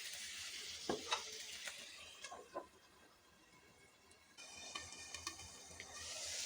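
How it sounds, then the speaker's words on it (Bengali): Garlic and onion fry under a lid in a pan for black seed bharta, giving a soft steady sizzle with a few scattered clinks and stirring knocks, all fairly faint. "এই জন্য আমি এটা ঢাকা দিয়ে দিয়ে ভাজবো"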